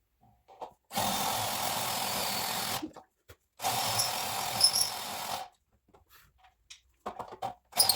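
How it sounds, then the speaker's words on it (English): A power drill bores holes for nutserts during a fuel tank and Holley fuel pump install, two sustained loud whirring bursts of about two and five seconds separated by brief pauses, followed by scattered clicks and short tool noises. "So let's drill 3 more holes,"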